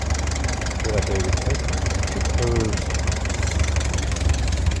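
A 1948 Ford 8N tractor with front and rear snowplows idles at its lowest throttle, a steady low engine rumble that runs without a break from start to end, with a few faint higher squeaks over it.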